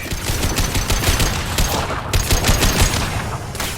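Sustained gunfire in Mass Effect 2 Legendary Edition combat on Horizon, a loud, continuous stream of rapid shots with scattered heavier impacts throughout.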